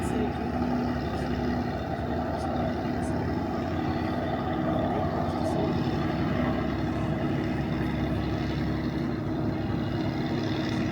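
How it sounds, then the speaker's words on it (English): A passenger floatplane takes off from a water runway in Alaska, its propeller engine droning steadily and moderately distant under a continuous, even roar that holds for the whole stretch. "You can see a passenger plane taking off right there behind it."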